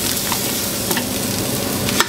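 Onion hits hot oil with spices in a pan for goat curry, giving a dense, steady sizzle and crackle close up, with a couple of brief stirring clinks and no talking.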